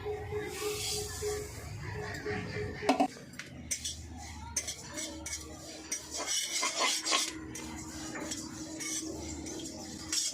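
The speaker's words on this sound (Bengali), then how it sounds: "কড়াইটা গরম হয়ে গেছে এবার আমি তিলগুলো ভেজে নেবো" Sesame seeds dry-roasting in a hot kadai, stirred with a utensil that scrapes and clinks steadily against the metal, with a light rustle of seeds and a low background hum throughout.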